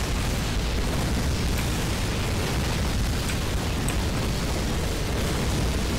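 A Panther tank blows up in Call of Duty combat, filling the air with a dense, continuous explosive roar and rumble at a constant loud level from start to finish.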